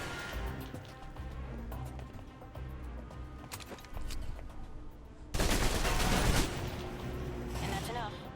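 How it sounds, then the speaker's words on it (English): Submachine guns fire in the video game Alpha Protocol, with scattered gunshots in close-quarters combat and a loud dense burst of automatic fire near the end, while a voice talks over much of it. "If you're trapped in close quarters with multiple opponents, the SMGs can help clear the room quickly. Not subtle or quiet"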